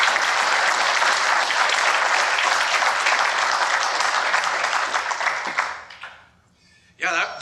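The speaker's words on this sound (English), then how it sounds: "I would like to ask for a big round of applause for our panelists" Audience at a members' forum applauds the panelists, loud sustained clapping that fades out near the end, followed by a voice starting to speak.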